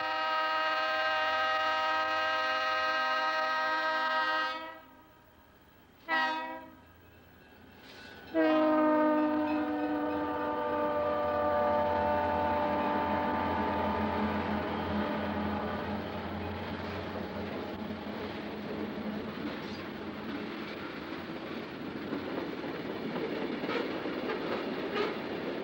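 A B&O freight train led by a pair of Western Maryland SD35 helper locomotives climbs a steep grade, sounding long horn blasts, then rumbling past with growing clickety-clack of wheels and engine drone.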